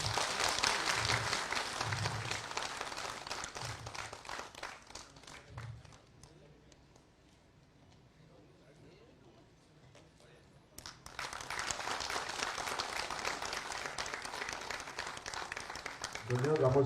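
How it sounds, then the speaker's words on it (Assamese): Audience applause at a BJP joining event in Assam welcoming a former AASU general secretary: a loud burst of clapping at the start, a quieter lull in the middle, then a second sustained round of applause, with some voices mixed in. "সকলোৱে হাত তালি দিয়ক জোৰকে।"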